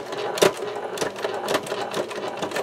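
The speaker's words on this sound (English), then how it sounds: "Can you hear how it's really clunking now?" A sewing machine stitching slowly through four layers of vinyl for a pocket, running in a rapid, heavy clunking rhythm of repeated mechanical knocks, close and steady with no talk.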